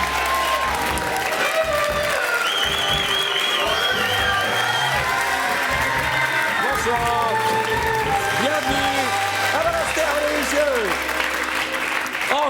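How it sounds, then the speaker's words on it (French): A studio audience applauds loudly and steadily as a guest walks on to a French evening talk show, with cheers and whoops rising over the clapping, and music playing underneath. "Je compte sur vous pour l'accueillir avec beaucoup d'applaudissements"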